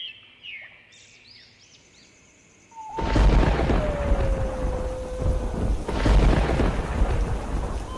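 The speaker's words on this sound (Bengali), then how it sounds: "বাইরে এত বৃষ্টি হচ্ছে" Heavy rain and thunder outside: after a quiet stretch with faint bird calls, a loud thunderclap breaks in, followed by rumbling and a dense rush of rain, then a second roll of thunder near the end.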